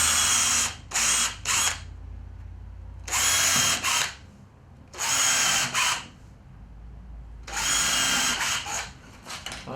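Bursts of a cordless drill driving screws into pallet wood in short runs, four main pulses separated by pauses, close and loud, with brief trigger blips between.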